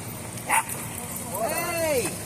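A single dog bark sounds briefly amid outdoor crowd noise at Bowling Green in New York City, followed by a drawn-out yelping whine.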